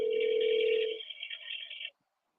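A telephone auto-dialer places a call, giving a steady tone that stops after about a second, then a higher warbling tone that runs on briefly before cutting off into silence.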